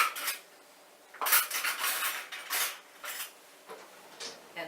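A utensil stirs sauerkraut salad ingredients around in a bowl, giving quiet, irregular scraping and clinking strokes that come in short bursts with pauses between them.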